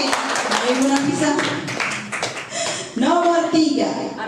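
A small group claps briefly to award points during a teachers' quiz session, with sharp scattered claps at the start, then fading under lively chatter and voices talking.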